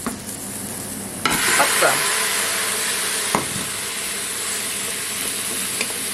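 Tomatoes are tipped into a pan of browned onions and stirred in: a loud burst of sizzle and hiss begins about a second in, with scraping stir strokes over it, and a brief spoken word comes near the start.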